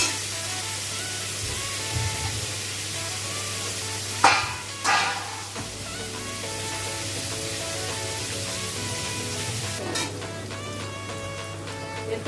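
Capsicum strips added to beetroot and carrot frying in a pan for chicken chowmein, a steady sizzle with a couple of louder stirring scrapes and a clatter in the middle, under a constant low hum.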